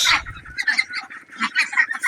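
A flock of Pekin ducks quacks and honks in quick, overlapping bursts, close and fairly loud.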